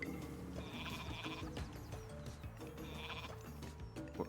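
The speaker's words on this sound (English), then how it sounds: "What's going on with the sheep over here?" Several sheep bleats in Age of Mythology, clear cries spaced through a short stretch over steady game ambience and music.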